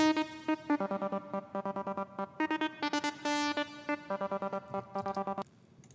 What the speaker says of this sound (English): So we got a layer of Serum that